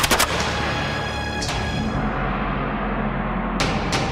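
Gunfire from an execution firing volley, with sharp loud cracks at the start and again near the end, separated by a lingering rumbling decay.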